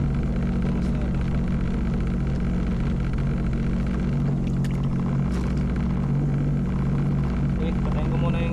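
Jet ski engine running on the water during a fishing trip in New Zealand, a loud, steady droning rumble that fills the whole stretch without letting up.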